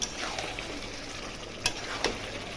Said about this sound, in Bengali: দেখো বন্ধুরা, মশলাটা দিয়ে মাংসটা ভালো করে কষাচ্ছি।